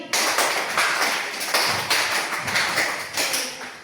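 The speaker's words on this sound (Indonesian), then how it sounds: "Tepuk lima kali dua kali" Schoolchildren in a classroom clap together in two rounds of five, a fast, rhythmic run of crisp, loud claps close by, heard on their own without voices.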